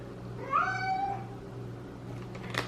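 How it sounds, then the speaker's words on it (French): A pet cat gives one drawn-out, rising-and-falling meow close by indoors, then falls quiet over a low steady hum. "si vous l'entendez miauler, je m'excuse"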